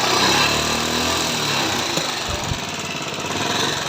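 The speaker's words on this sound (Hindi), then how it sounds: "तो फाइनली हम बाइक को स्टार्ट करते हैं और आपको दिखाते हैं इसकी साउंड।" A faulty Bajaj Pulsar motorcycle engine runs with a loud, steady, rough mechanical clatter and knocking rattle, continuous and close throughout with no talk.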